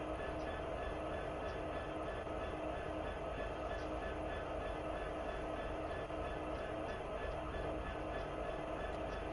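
Locomotives rumbling in the Train Sim World 2 railway simulation game, a steady continuous engine and track drone holding at an even level throughout.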